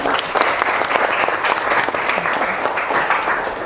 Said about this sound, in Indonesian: tepuk tangan untuk Mas Reno ya